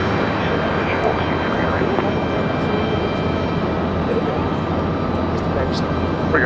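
An airplane lands at Raleigh Durham airport, its engines giving a steady, loud roar that carries on for the whole stretch, while people talk over it.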